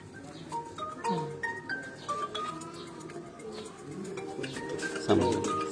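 Lal Badshah pigeons coo repeatedly on a rooftop loft, soft rolling calls near and moderately loud, with light clinks and a brief louder flutter near the end.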